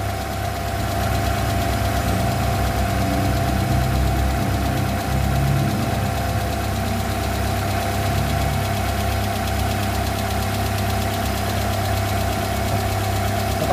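A rebuilt Hyundai Matrix 1.6 engine idles with a steady droning hum and faint rattly vibration from worn engine mounts and a noisy SLA, close and constant without speech.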